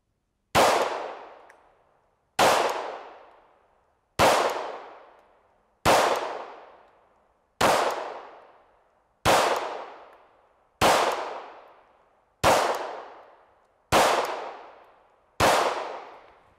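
Ten sharp Glock 17 Gen 4 pistol shots at a shooting range, each a loud crack with a ringing decay, fired at a steady pace about every two seconds, with no talking.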